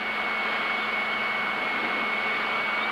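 A Piper PA28 engine drones steadily on the landing approach, a constant loud cabin hum with a sustained tonal whine and no talking.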